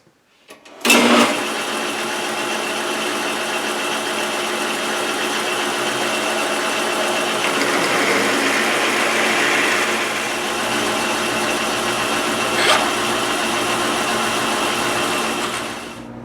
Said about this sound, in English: ready to drill it and then ream it.